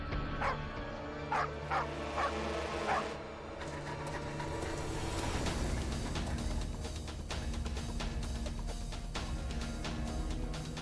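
A dog barks in a scene from a Hindi historical TV drama, giving four or five sharp barks over a steady music score that then carries on alone.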